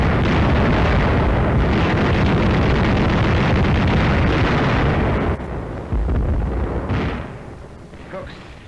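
Anti-aircraft guns fired point blank in World War II Battle of the Bulge combat, a loud, continuous roar of dense gunfire and heavy explosions that rumbles on and then drops off, with wind buffeting the microphone.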